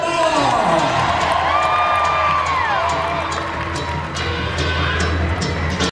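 Cloverdale rodeo grandstand crowd cheering during the ladies' run, loud, continuous shouts, whoops and applause with children's voices, holding strong throughout before cutting off abruptly.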